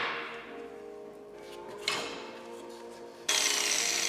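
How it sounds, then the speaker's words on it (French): A saw cuts the end off an old, heavily oxidized tool handle at close range, giving short rasping strokes, a brief pause, and then a louder, brighter burst of cutting. "je vais couper juste le petit bout ici"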